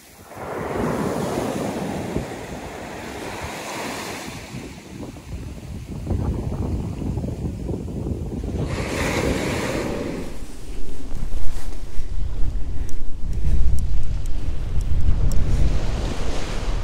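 Sea waves roll onto Burgas beach in Bulgaria, a continuous broad wash of surf with heavy wind buffeting the microphone, swelling louder in the second half.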